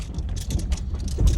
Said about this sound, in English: that's exactly what it is hangers on my rack back there